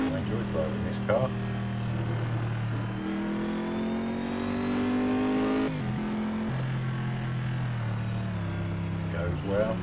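A revving race car engine in the racing game Assetto Corsa at Circuit of the Americas climbs and drops in pitch through gear shifts, steady and prominent, with occasional faint clicks.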